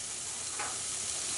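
Chopped shallots cook in a dry pan, giving a faint, steady sizzle and hiss with a brief brighter crackle partway through.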